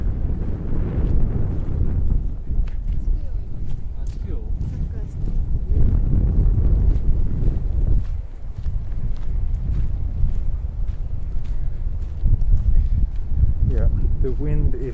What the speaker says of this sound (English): the wind is somewhat irritating actually. It's really strong and it's quite cold.